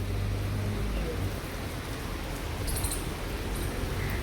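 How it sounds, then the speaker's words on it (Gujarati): Steady, even morning rain hissing without a break, a dense wash of falling drops at moderate volume. "કેવો મસ્ત વરસાદ આવે છે સવારમાં"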